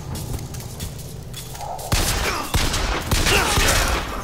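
Rapid bursts of gunfire in the video game BioShock Infinite crack and boom against a busy background, growing louder partway through with several sharp shots.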